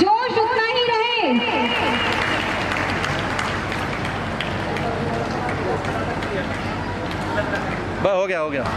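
A school crowd applauds a temple opening ceremony, sustained loud clapping from many hands after a brief spoken line, with a voice cutting in again near the end.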